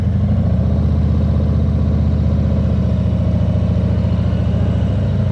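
A heavy motorcycle engine runs at low, steady revs during a slow left U-turn. Its deep pulsing thrum stays close and constant throughout, with no speech.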